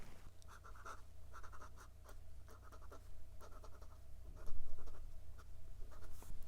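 A 1920s Waterman black hard rubber fountain pen with a number 2 size 14-karat gold nib scratches across Clairefontaine 90 gsm paper in close, repeated short strokes over a steady low hum.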